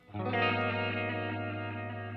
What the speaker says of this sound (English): So check out the chorus.